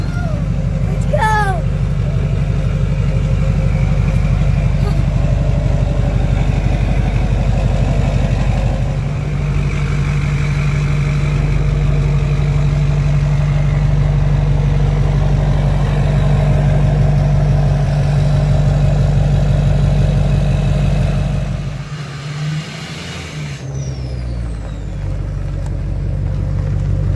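A lifted-injector LMM diesel truck engine idles with a steady low rumble, close and loud, broken by a brief high vocal sound early on and a short dip near the end.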